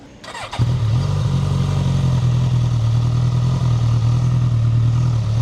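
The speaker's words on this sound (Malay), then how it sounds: "So ni saya belanjakan sikit bunyi GSX S1000 ni macam mana." A Suzuki GSX-S1000 motorcycle on its standard exhaust starts with a brief cranking burst, then settles into a loud, steady near idle with a deep rumbling note and a slight rise in revs.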